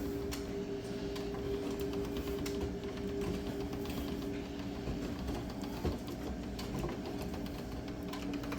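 Homemade pasta dough rolled through a pasta machine in a home kitchen, a steady mechanical whirring and humming that runs evenly throughout, with no talking.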